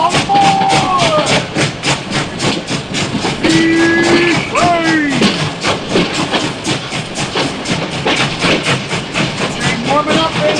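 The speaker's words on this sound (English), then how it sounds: "Train warming up, baby." A steam train effect in a baseball video game stadium gives a rhythmic chuffing hiss with several sliding whistle blasts, loud and continuous throughout.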